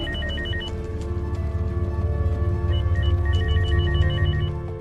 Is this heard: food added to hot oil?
no